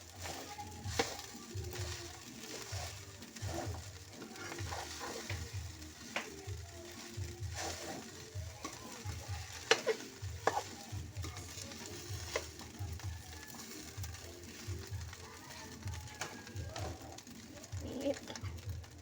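Onion and garlic fry in a pan for a home lunch, a steady sizzle with stirring scrapes and clatters throughout, close and moderately loud, with birds or doves cooing faintly in the background.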